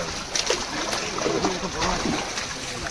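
Live rohu and catla fish poured into a pond, giving a quiet run of splashes and water sloshing, with people talking throughout.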